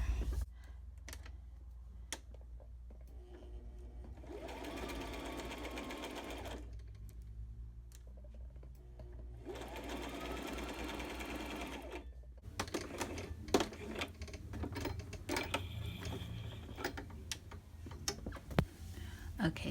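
A sewing machine stitches a straight seam on a tee shirt dress in two bursts of steady whirring, with quiet ticks, clicks and fabric handling between and after.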